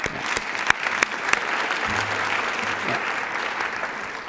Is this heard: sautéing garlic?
no